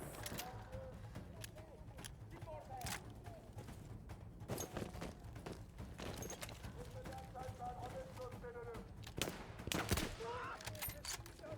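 Gunfire in the Battlefield 1 video game in a desert setting, scattered sharp shots and short bursts mixed with hoof-like clatter and game effects, with a voice speaking over the sound throughout.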